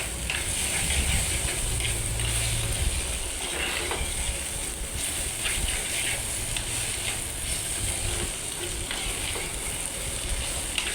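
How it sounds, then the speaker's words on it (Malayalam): Okra stir-fry seasoned with turmeric powder and salt being stirred in a pan, a steady close sizzle and hiss running throughout with faint scraping of the spoon, no voices. "ഇതിൻ്റെ കൊഴുപ്പൊന്ന് മാറി വന്നതിന് ശേഷം നമുക്കതിലേക്ക് ഒരല്പം മഞ്ഞൾപ്പൊടിയും ആവശ്യത്തിനുള്ള ഉപ്പുകൂടെ ചേർത്ത് നന്നായിട്ടൊന്ന് ഇളക്കിയെടുക്കുന്നുണ്ട്"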